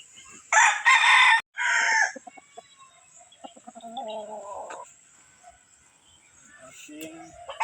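Free-range chickens and roosters on a farm range: one loud, close rooster crow, then softer clucking and other fowl calls in the background, with a few quieter crows continuing throughout.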